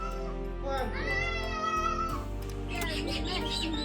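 A cat meows in drawn-out, wavering cries close by, with background music playing underneath throughout.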